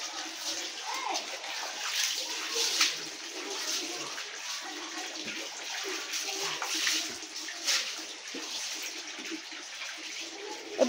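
Water pours continuously into a bucket for a bath, a steady, moderately loud splashing gush with small fluctuations, heard under intermittent talking.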